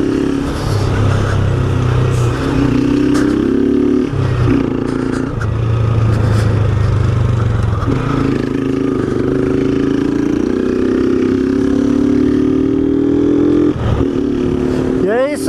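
A motorcycle engine putters and idles up close for the whole stretch, with brief revs and pitch shifts, steady and fairly loud.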